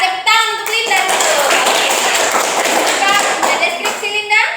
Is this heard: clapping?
yes